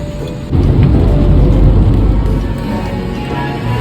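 Heavy rain pours steadily on the Davao Coastal Road while thunder rumbles loudly, swelling after a quieter start and then rolling on beneath the downpour.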